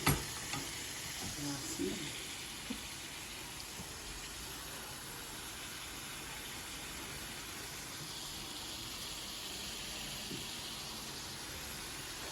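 Meat sizzles steadily in a hot pan, a continuous crackling hiss with a few clanks and stirring knocks near the start.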